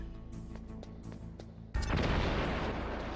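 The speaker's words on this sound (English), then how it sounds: "I was very far away from that explosion." A sudden loud explosion erupts in the Metal Gear Solid video game, cutting off quieter game audio and leaving a dense, sustained rumbling roar that slowly fades.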